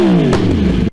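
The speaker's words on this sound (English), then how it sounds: "I would die for that exhaust sound. God, the R1." A Yamaha R1 motorcycle exhaust gives one short, loud rev whose pitch falls away in under a second, heard up close with no talking.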